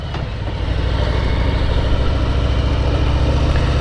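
A 2019 Harley-Davidson Deluxe engine runs loud and close with a deep, throbbing low rumble, steady and strong for the full few seconds, with no voices over it.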